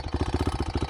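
Rough-running CRZ 125 motorcycle engine, in very poor condition, idling close by with a steady, fast, uneven pulsing putter.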